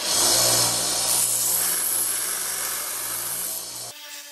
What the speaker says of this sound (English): That's what we have sanders for.